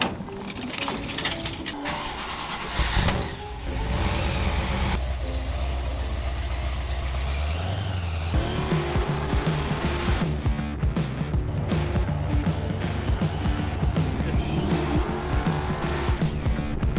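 A 1970 Plymouth Cuda driving with a loud, rumbling engine that revs and shifts, plus tire squeal and skidding, heard up close and continuous with no talk.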